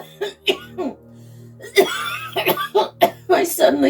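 A series of harsh, repeated coughs bursting out in quick succession, loud and close, with some voiced sputtering between them.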